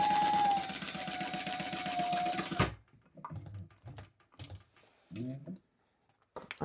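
A home sewing machine stitches a crossbody bag in a steady, fast mechanical whir with rapid ticking for a few seconds, then stops, followed by light handling clicks and rustles of fabric; close and fairly quiet.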